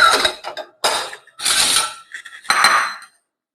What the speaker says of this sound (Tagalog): So, itong saging natin, hiwain natin to sa 3.